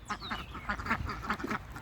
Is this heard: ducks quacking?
yes